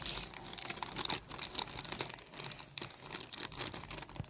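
Plastic packaging crinkling and rustling as a YouTube gift parcel is opened by hand, a steady close-up scrunching with sharper crackles and no talking.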